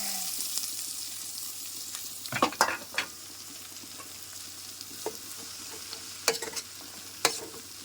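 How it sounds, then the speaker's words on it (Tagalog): Mung beans sautéed in a pan, a soft steady sizzle with a few scraping stirs and clinks of a utensil against the pan, fairly quiet and close, no talking. "bigisa ako ng munggo"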